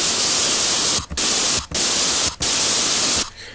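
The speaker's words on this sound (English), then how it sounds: "That, like, static sound, if you didn't know, is what white noise is" Loud, steady hiss of white noise static, broken by three brief silent gaps and fading out near the end.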